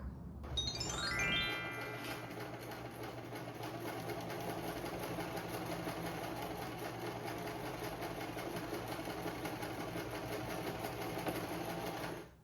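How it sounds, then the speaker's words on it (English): A sewing machine stitches a tie piece onto a four-way stretch fabric bodice, its motor whirring steadily and close for the whole stretch, with no talking. "sew the little tie piece onto here"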